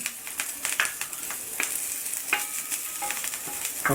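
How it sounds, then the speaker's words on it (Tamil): Chopped green chillies sautéing in butter in a pan for an omelette: steady crackling sizzle with scattered sharp pops and occasional scraping stirs, close and fairly quiet, no talking. "நம்ம கட் பண்ணி வச்சுருக்க அந்த பச்சை மிளகாய் இதில் போட்டு லைட்டாக வதக்குங்க"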